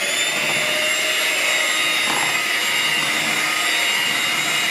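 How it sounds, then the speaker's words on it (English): A steady, loud electric hum of a hand mixer whirs without pause while mashing potatoes, a constant motor drone that fills the whole stretch with no talking. "In the meanwhile, I'm making mashed potatoes with this mixer thing."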